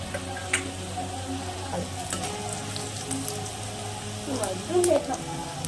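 Ground green spice paste and marinated chicken hitting hot ghee for Afghani chicken, giving a steady sizzle and frying crackle, stirred now and then, with a sharper burst near the end; someone talks over it.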